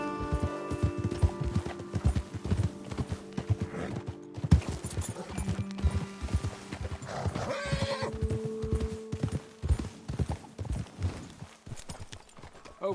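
Horses ridden in Red Dead Redemption 2, hooves clopping steadily and close across rough ground, with a loud neigh partway through and faint talk mixed in.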